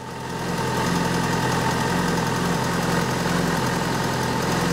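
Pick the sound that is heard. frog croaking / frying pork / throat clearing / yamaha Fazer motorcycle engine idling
yamaha Fazer motorcycle engine idling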